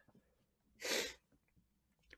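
One short sneeze, breathy and close, stands out against near silence, followed by a faint sharp sound.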